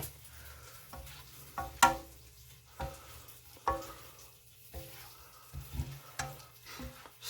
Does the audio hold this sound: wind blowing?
no